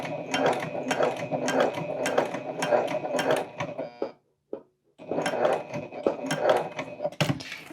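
A sewing machine stitches across the top of a tote bag in rapid, rhythmic mechanical bursts, close and loud, pausing briefly midway before resuming.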